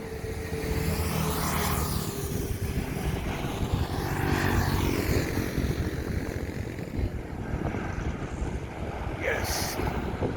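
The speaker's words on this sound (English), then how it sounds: "I'm at the Kuala Lumpur International Airport. This is AirAsia landing." An AirAsia airliner lands at Kuala Lumpur International Airport, heard as a steady, loud broadband roar with heavy wind buffeting on the microphone, sustained throughout with no talk.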